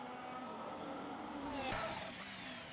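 A Haas Formula 1 car laps the Bahrain circuit during pre-season testing in a racing game, its high-pitched engine whine steady and fairly faint, rising briefly as it accelerates past.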